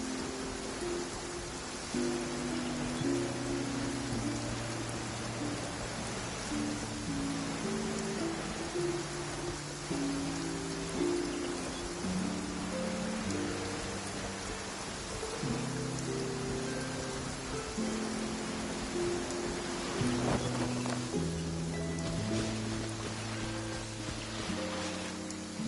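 Steady rain in Genshin Impact makes a constant hiss that fills the scene, with a soft musical melody playing alongside it.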